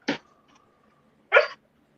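A pet dog, just let out of her kennel, gives two short, sharp barks about a second apart, close and fairly loud, with quiet in between.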